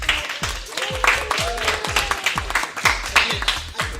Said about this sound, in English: if you would just give a round of applause for Mr. Lace Namir Harris.